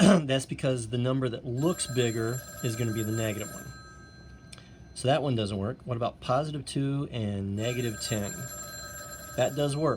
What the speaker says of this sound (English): Sorry about the phone ringing.